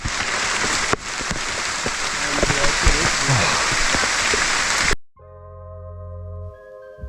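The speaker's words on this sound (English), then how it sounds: "it's not like you don't get the full force of the rain" Heavy rain pours down in a Guatemalan jungle, a loud dense steady wash filling the first five seconds before cutting to a quieter tonal passage.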